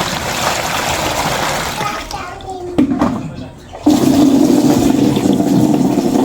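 Running water splashes steadily as wild mushrooms are rinsed, the flow briefly dropping away before gushing again; talking is mixed in.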